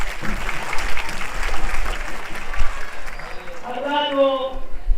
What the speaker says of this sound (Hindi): जोरदार तालियां देंगे